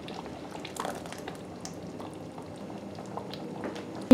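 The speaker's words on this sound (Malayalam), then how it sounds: "ഇത് നന്നായിട്ട് തിളക്കാൻ തുടങ്ങിയിട്ടുണ്ട്" Chicken tikka masala gravy with ground cashew paste bubbling in a pan, soft irregular pops and blips at a quiet, steady simmer up close, ending in a brief louder knock.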